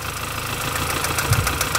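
Engine of a MINI R50 with a slack timing chain and a hydraulic tensioner runs steadily at idle, with a continuous mechanical hum and faint rhythmic ticking close by.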